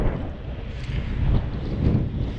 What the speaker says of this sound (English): It is quite breezy out here.